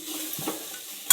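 A home-style Marathi egg curry masala being stirred over a high flame, with a faint steady sizzle, a couple of spoon scrapes against the pan and a sharp clink of utensil on metal at the very end.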